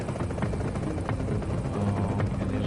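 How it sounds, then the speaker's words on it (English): A helicopter in the video game The Division thrums steadily and loudly throughout, its rotor chop continuous and unbroken with no voices over it. "We're shooting at that helicopter."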